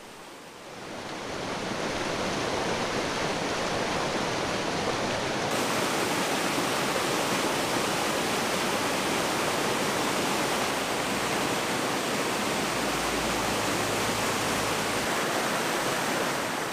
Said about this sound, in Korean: 동강의 물줄기는 계곡 사이사이 기운을 뻗어 물을 흐르게 합니다.